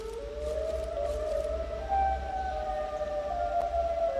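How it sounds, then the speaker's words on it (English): Siren Head wailing in a horror video game, a long rising and falling siren tone droning steadily over a low rumble, moderately loud and unbroken throughout. "So that's siren head right there"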